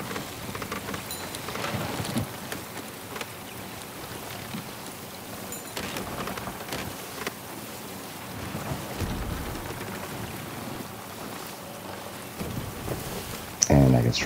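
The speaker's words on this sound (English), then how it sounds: "And I get struck by lightning." Heavy rain pours in a stormy sea in the pirate game Sea of Thieves, with rumbling thunder and gusts throughout, ending in a sudden sharp, loud lightning crack.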